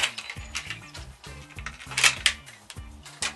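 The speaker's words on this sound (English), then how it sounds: "Unwrap your side guides." Metal side guides for a Velux roof window blind are unwrapped, giving close, quiet clinks, rustles and small mechanical clicks in an irregular sequence.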